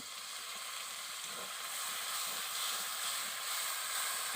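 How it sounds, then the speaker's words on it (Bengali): Water poured onto turmeric-and-salt-rubbed chicken in a hot pan during Bengali chicken kosha cooking, giving a steady, fairly loud broadband sizzle and hiss that swells slightly as it continues, with no talking. "এবার দিয়ে দেব অল্প পরিমাণে জল"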